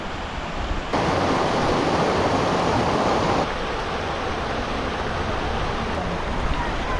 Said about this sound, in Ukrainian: Місточок, ще водоспадик невеличкий.